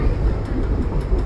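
The Tutari Express passenger train runs from Dadar toward Nandgaon in the Konkan, its interior filled with a steady low rumble and rolling track noise, loud and continuous.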